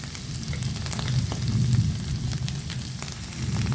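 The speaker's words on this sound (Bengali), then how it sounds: "হাফ চামচ হলুদ দিয়ে দিলাম। দিয়ে সব ভালো করে ভাজবো।" Onion, ginger and garlic paste with chili powder frying in hot oil for stuffed pointed gourd pakora, a steady close sizzle with scattered crackles and pops throughout, no talking.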